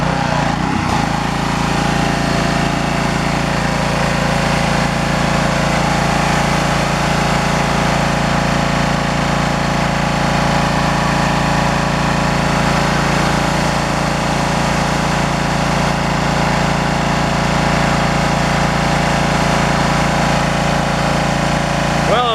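A repaired power washer engine runs steadily and loudly for the whole stretch, a continuous droning mechanical hum with no breaks and no talking.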